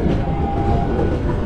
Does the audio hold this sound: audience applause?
no